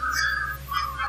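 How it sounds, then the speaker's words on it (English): Faint high whistling on an EVP digital recorder during a session in the living room of the ancient Ram Inn, two drawn-out wavering tones over a steady low hum, with no talk. "we heard a whistling on there."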